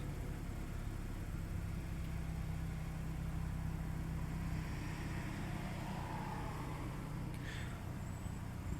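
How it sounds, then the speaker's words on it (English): A 2015 Chevy Cruze with the 1.4L turbo engine idles with a steady low hum and rumble that holds even for the whole stretch, quiet and without revving. "Let that idle come down a little bit."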